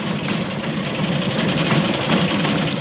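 An engine runs a belt that drives the drum of a kolhu grinding machine making sardai, a steady, close mechanical hum and rattle with no talking.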